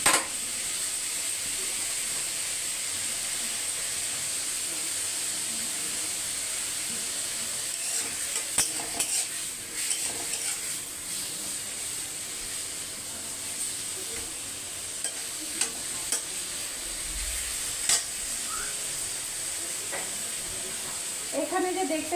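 Prawns frying with tomato and turmeric in a pan give a steady, close sizzle and hiss throughout, broken by occasional scraping stirs and light clinks.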